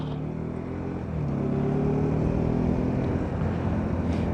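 A motorbike climbs a steep hillside road in the Okhaldhunga hills of Nepal, its engine a loud, steady drone that swells and rises in pitch after a second as the rider works up the slope. No voices are heard.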